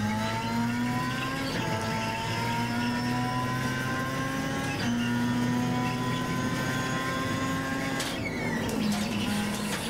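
A Star Mazda race car in the iRacing sim at Mid-Ohio, its engine droning loud and steady and climbing in pitch through the gears, with brief shifts where the tone drops, heard alone.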